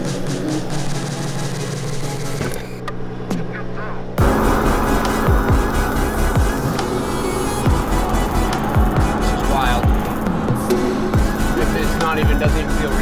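Toyota Land Cruiser fitted with a Chinook camper body on its first highway drive; a steady loud road and engine drone from inside the cabin, with a sharp jolt early on and continuous wind and tire rumble.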